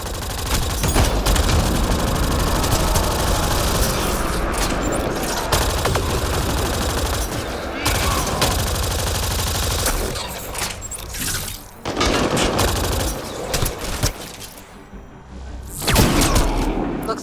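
Dense, sustained gunfire and automatic weapon bursts during a firefight against pirates on Meridian in the PC game Mass Effect: Andromeda, loud and nearly continuous with brief lulls, mixed with battle noise and occasional voices.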